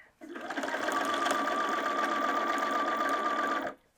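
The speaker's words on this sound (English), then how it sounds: "Sew up the side with your 3/8 inch seam allowance." A sewing machine runs a continuous fast stitching burst for several seconds, back tacking and then sewing a bag's side seam, close and steady, starting and stopping abruptly.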